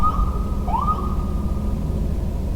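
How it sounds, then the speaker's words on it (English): A police siren wails in a Baltimore street, a steady loud tone that sweeps upward briefly, over a dense low rumble of traffic, with no talking. "you gotta excuse me because there's sirens in Baltimore"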